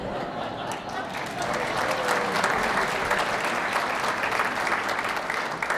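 An audience bursts into sustained applause at a live talk event, a broad continuous roar of clapping that swells after the first second and holds steady, with faint voices underneath.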